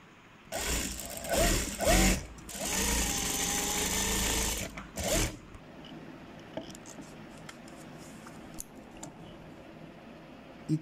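A sewing machine stitches a shirt collar in short close bursts, then a longer steady run of rapid needle chatter, before falling quiet with only faint handling of fabric.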